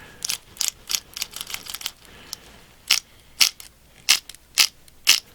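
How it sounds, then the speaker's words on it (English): A small metal rod inside a slot car repeatedly clicks against plastic, giving sharp dry ticks in quick irregular bursts, then a slower steady series of louder clicks, close and isolated. "that little metal rod in there hits the plastic and makes the sound"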